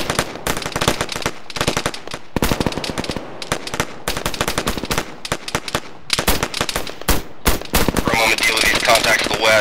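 Loud gunfire in the military shooter Arma 3 during a forest fight, with dense rapid bursts of automatic shots crackling almost continuously and only brief gaps between volleys.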